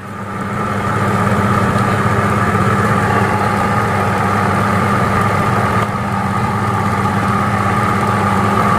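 An LG top-loading washing machine spins at high speed, giving a loud, steady, continuous hum and whir that holds constant throughout, with no talking.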